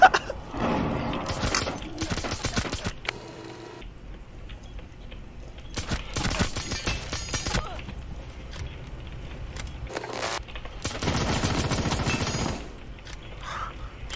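Pistol gunfire in the game Rainbow Six Siege: several bursts of sharp, rapid shots separated by quieter gaps, loud and close, mixed with clattering in-game effects.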